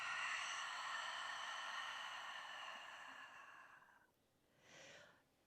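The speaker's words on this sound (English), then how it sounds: "Inhale. Open your mouth and cleansing breath out." A long, steady exhale through an open mouth as a cleansing breath in a yoga core flow class, breathy and close, lasting about four seconds, then a short, softer second breath.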